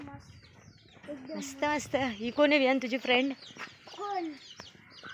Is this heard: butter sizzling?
no